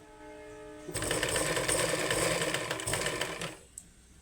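A sewing machine stitches fabric in one continuous, loud, rattling run of about three seconds, close up, then stops abruptly.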